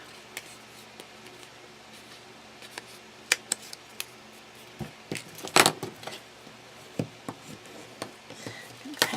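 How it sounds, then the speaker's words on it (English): Score tape peeled from a paper matchbox mini craft project, a run of scattered small crackles, ticks and tearing rustles, with one louder, longer rip near the middle, close and fairly quiet, with no talk. "let's peel off that score tape"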